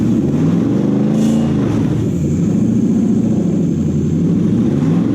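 A Toyota 1UZ V8 with a Link ECU and stock ignition leads, installed in a car, runs close and loud. It holds a steady, rumbling, lumpy note with rising and falling rev swells and no talking over it.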